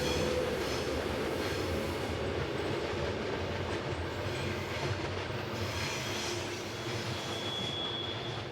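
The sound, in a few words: train on the Semmering Pass railway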